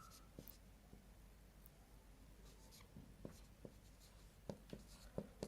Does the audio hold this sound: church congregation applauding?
no